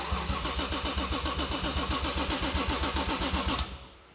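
A car engine cranks during an engine swap, the starter churning loud, even, rapid pulses for several seconds without firing, then stopping abruptly.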